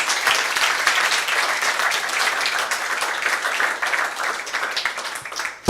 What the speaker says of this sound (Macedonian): Голем аплауз за Илија, ве молам.